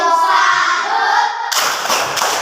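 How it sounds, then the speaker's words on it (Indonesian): A primary school class claps a short rhythmic salute in unison, a brief burst of hand claps with a crowd quality, cutting off sharply. "Kita tepuk salut satu kali."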